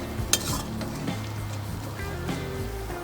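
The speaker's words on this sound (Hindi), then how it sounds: "अच्छे से इसको मिक्स करेंगे।" Chicken filling with chopped capsicum and milk being mixed in a bowl in a home kitchen, with a utensil scraping and clinking against the bowl in a few irregular strokes.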